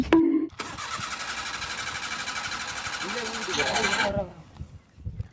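A car engine turns over for several seconds without catching, a steady churning whir that swells near the end and then stops, while people talk and shout nearby.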